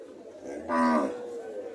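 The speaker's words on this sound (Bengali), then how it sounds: "হরিয়ানা জাতের গাবি ইন্ডিয়ান হরিয়ান জাতের গাবি" An Indian Haryana breed cow gives a single loud, drawn-out moo up close on a farm, rising in the middle and trailing off after about a second.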